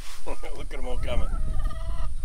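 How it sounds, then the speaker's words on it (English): Chickens in a backyard garden give short clucks and tonal calls close by, several overlapping notes in quick succession over a rustling, breezy outdoor background. "Do you want to feed some to the chickens?"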